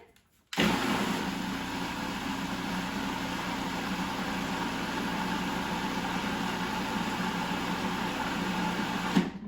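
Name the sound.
food processor blending cherry tomatoes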